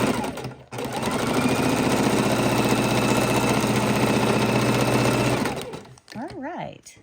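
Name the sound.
sewing machine stitching raw edge appliqué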